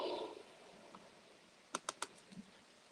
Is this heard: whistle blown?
no